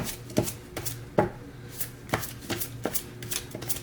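Tarot cards being shuffled at close range, a series of sharp slapping riffles roughly every half second to second, with softer rustles between, fairly quiet overall.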